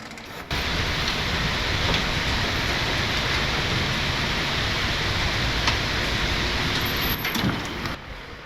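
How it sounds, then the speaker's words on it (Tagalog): Steady rain pours down during a motorcycle trip on a Kawasaki Dominar 400 near Calilayan Cove in Unisan, Quezon, making a loud, continuous hiss that starts abruptly and holds unbroken for several seconds. "tapos ngayon umuulan."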